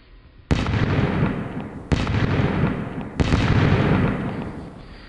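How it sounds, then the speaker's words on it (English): Fireworks in the mobile game Star Trek: Trexels II, three loud booming bursts about a second and a half apart, each followed by a sustained crackling rumble, with no talk over them. "Fireworks!"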